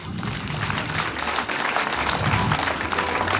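Applause for a teacher at a school event, a dense wash of many hands clapping steadily throughout, fairly loud and close, with a faint murmur of the crowd beneath.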